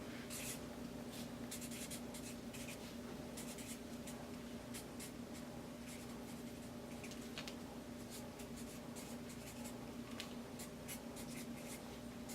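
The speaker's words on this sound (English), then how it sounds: "I like to first fill out the card before I open the bag." A pen scratching across a gift card in short, quiet strokes with brief pauses, close but faint over a low steady hum.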